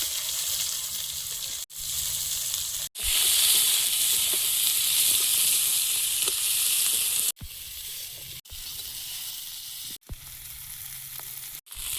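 Spices and chopped onion sizzle steadily in hot oil, a close, loud frying hiss broken by a few sharp clicks, with no talk.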